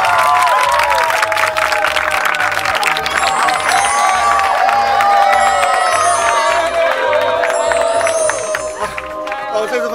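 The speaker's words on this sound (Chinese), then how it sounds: "来掌声鼓励。" A studio audience claps and cheers loudly and steadily for about ten seconds at a variety show, greeting a marathon running team, with whoops mixed in and the noise easing slightly near the end.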